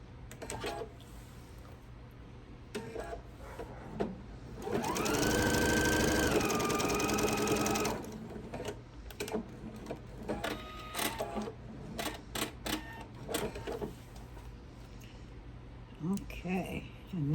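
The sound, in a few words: sewing machine sewing apron seam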